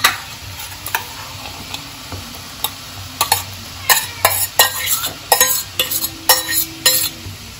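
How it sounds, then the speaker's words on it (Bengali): Chicken mince dropped into boiling water in a pot with ginger slices and stirred, giving a string of sharp clinks and scrapes over a steady bubbling hiss, close and fairly loud. "এবার এটার মধ্যে জলটা এই যে ফুটে উঠেছে, এবার এটার মধ্যে আমি এই চিকেন কিমাগুলো দিয়ে দিচ্ছি।"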